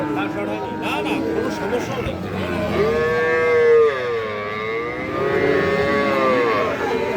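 A young Friesian or crossbred bull calf moos loudly in long drawn-out calls up close at a cattle market, while people talk over a busy background.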